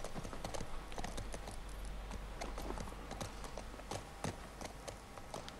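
Rapid, steady clip-clop of horse hooves on stairs in The Last of Us Part II, a dense run of sharp hoofbeats over a constant low game ambience, heard alone without talk.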